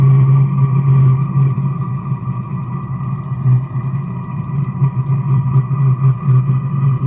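A diesel heater runs at close range as its fuel pump rate is raised, making a loud, steady low droning hum with a faint rhythmic pulsing throughout.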